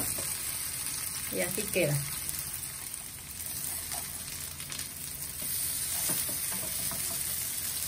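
Potato and chicken hash browns fry in a pan over high flame with a steady, moderate sizzle and occasional stirring scrapes, while a person speaks briefly.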